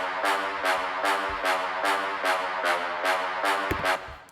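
Chopped horn sample from Splice playing in an electronic track, with bright brassy stabs repeating in a steady rhythm, about nine hits, loud and alone.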